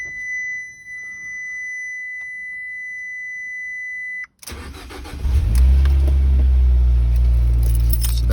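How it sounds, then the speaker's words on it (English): Cold start of a Fiat 500 Abarth with a valved muffler held closed: a chime tone and faint key sounds, a brief crank, then a loud, deep exhaust rumble settling into a steady idle close by. "that's with the valve closed."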